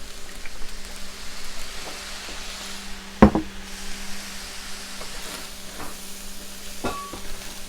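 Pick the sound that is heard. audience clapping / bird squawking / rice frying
rice frying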